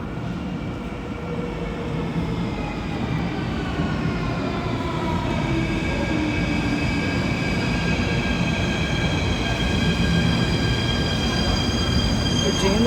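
A metro train slows as it pulls into a station, with a loud steady rumble of wheels on rail and rising squeals that sweep and fade as it brakes, heard close by over a continuous low roar.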